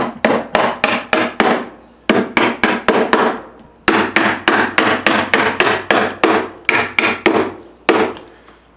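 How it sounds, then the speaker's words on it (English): Aluminum handle parts for a Yamaha S4115H restoration are tapped into tight holes with a hammer, giving sharp, evenly spaced knocks in quick bursts of four to six, separated by brief pauses, close and loud. "I made the holes a little tight, so these things here they're going to have to be tapped in."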